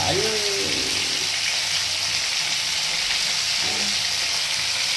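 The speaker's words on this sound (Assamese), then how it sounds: "মাছ ভাজি আছোঁ" Fish fries in a pan with a loud, constant hissing sizzle throughout, and a voice is faintly heard at moments underneath.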